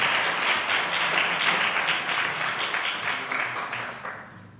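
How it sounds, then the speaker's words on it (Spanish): Audience applause after a speaker is introduced at a climate anomalies talk, a steady wash of many hands clapping at moderate level, slowly thinning toward the end. "Un aplaudiment."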